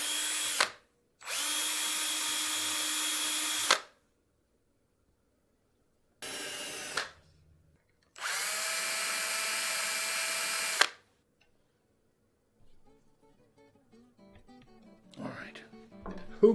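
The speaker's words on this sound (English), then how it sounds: "I have this little flag on here to keep me from drilling through" A power drill boring into wood during guitar making whirs in several long bursts with pauses between, steady and close, followed by quieter handling noises and faint rustling at the end.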